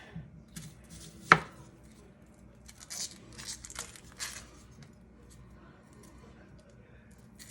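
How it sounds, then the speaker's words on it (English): A knife slicing a shallot thinly on a cutting board during home cooking, with one sharp knock against the board and soft intermittent cutting taps, close by and fairly quiet. "We're gonna thinly slice the shallot."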